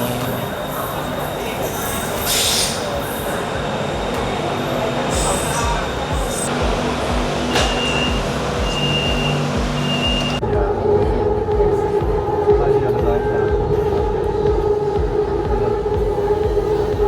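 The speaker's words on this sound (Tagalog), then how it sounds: "Train." A train passes in Bangkok, a rumbling rail sound with a steady tonal whine that sharpens near the end, mixed with crowd noise and people talking close by.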